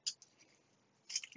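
Scissors make two quick, crisp snips, one at the start and one near the end, faint and close with little else around them, while work goes on inside a Riden RD6018 power supply.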